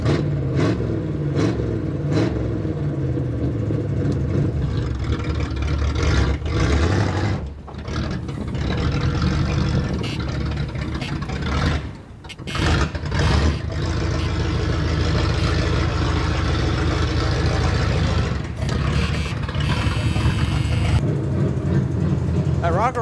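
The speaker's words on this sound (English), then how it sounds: "That rocker arm is noisy." A long-neglected Pontiac Phoenix engine runs with a noisy rocker arm, a steady motor drone with repetitive ticking and brief dips in level, while people talk over it.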